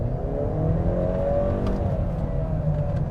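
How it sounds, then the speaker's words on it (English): A 2020 Honda CR-V Hybrid accelerates at full throttle, its engine droning steadily and rising in a continuous strained whir, loud and close throughout with no talking. "Let's floor it and see what happens."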